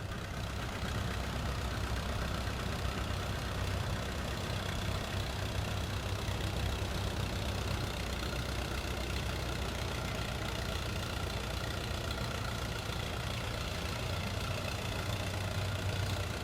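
A vintage tractor engine idles through a threshing bee parade, a steady low rumbling drone heard continuously and fairly close, with broad outdoor noise around it and no pauses.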